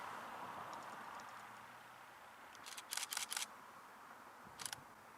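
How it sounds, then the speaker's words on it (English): A camera shutter fires three quick shots in a row while photographing windmills outdoors, crisp faint clicks close together over quiet background hiss, followed by one more click. "I'm not sure if you can hear the shutter. I'm taking 3 shots in rapid succession."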